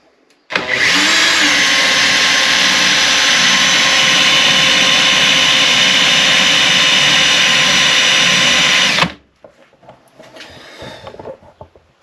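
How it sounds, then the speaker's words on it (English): A handheld electric drill spins the alternator of a high-mileage BMW 1150 GS motorcycle during a voltage test, a loud steady high-pitched whine that runs for about eight seconds and then cuts off, leaving faint rustling. "Slow the drill down."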